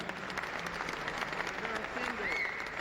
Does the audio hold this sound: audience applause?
yes